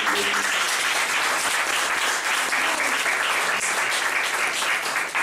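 A church congregation claps steadily and loudly, praising the Lord after two speakers' sermons, the dense applause holding evenly throughout with no talking.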